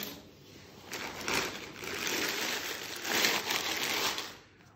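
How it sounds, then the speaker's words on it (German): A plastic bag of pottery clay is cut open indoors, giving soft crinkling and scraping rustles in two faint bursts with no talking. "Also Tüte aufschneiden."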